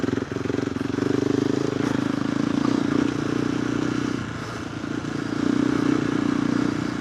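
KTM 390 Adventure R motorcycle fitted with a Norifumi Whoops exhaust, riding off-road: a steady engine drone with a low burbling exhaust note, moderate in level, dipping slightly midway then rising again, with faint clatter from the trail.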